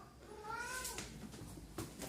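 A cat meows in a drawn-out, rising call up close, followed by brief fainter sounds, with no talking.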